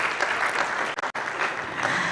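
Applause from an audience at an education forum in Kumasi for a presenter, a dense steady wash of clapping with a couple of very short dips near the middle.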